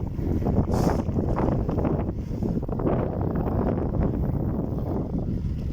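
Steady, loud wind buffeting the microphone during an outdoor bike ride on a windy day, a continuous low roaring rumble with no break throughout.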